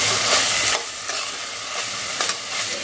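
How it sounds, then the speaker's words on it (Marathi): Ground paste of mint and coriander stems with a little garlic and salt sautéing in a hot pan, giving a bright continuous sizzle with stirring scrapes, close and fairly loud with no voices. "हे पुदिना आणि कोथिंबीरीच्या काड्याचं जे वाटण आहे ते घालते।"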